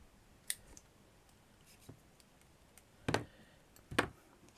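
A few sharp scissor snips through fabric, cutting a craft petal, quiet and close, spaced irregularly with pauses between cuts.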